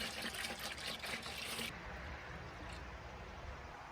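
Log oil pours into a container while protecting a log cabin: a thick rushing pour at first, then a quieter steady trickle that continues alone.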